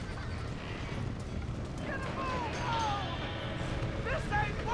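Horses gallop in the Red Dead Redemption video game, a fast continuous drumming of hooves under a dense background of game noise, with whistling cries and calls rising over the rumble.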